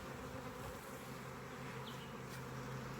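Honey bees buzz in a steady, faint drone around an open first-year hive being split, with a few individual bees passing close.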